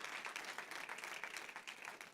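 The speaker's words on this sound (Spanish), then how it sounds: "Dele un aplauso al Rey de la Gloria conmigo en este momento." Steady applause from a church congregation, a dense wash of clapping hands held at an even level throughout, fairly quiet and without voices over it.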